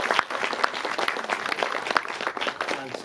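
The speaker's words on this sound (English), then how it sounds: "we should applaud to that." An audience at a film festival master class applauds steadily, a dense patter of many hands clapping at close range with no voices.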